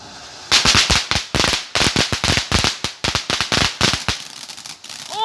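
Firecrackers or fireworks go off in a rapid string of sharp, loud bangs and crackling pops close by, the bursts tumbling in irregular quick succession for several seconds before tapering off.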